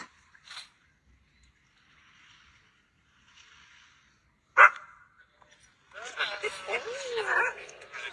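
Dog accompanying a monks' walk for world peace gives one sharp, loud bark after faint quiet sounds, then a burst of close, excited yips and whimpers.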